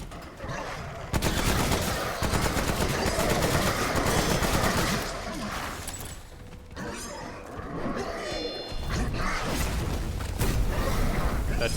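Rapid SMG fire from Remnant: From the Ashes: dense, sustained bursts that rattle almost without pause, loud and close, with short gaps between volleys.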